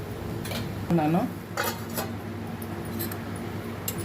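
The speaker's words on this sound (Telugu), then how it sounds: "కొంచెం బియ్యం పిండి ఇలా 2 స్పూన్లు చిన్న స్పూన్తో కలిపేసేస్తాను" A spoon clinks and scrapes against a pan while stirring rice flour into a spinach curry, with a handful of metallic taps over a low kitchen background.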